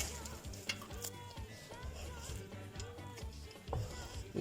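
Couscous with frozen peas being stirred in a pot, a steady scraping and stirring with soft sizzling throughout, close and continuous with no talking.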